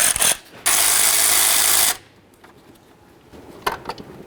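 A power tool whirs loudly for over a second, with short bursts before it, as ignition coil mounting nuts come off a 1994-2004 Chevrolet S-10, followed by quiet metallic clicks and handling noises.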